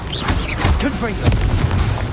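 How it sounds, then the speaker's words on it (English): The Confringo explosive spell is cast in a video game: a short, punchy boom with rumbling low end. A voice speaks over the blast. "Confringo!"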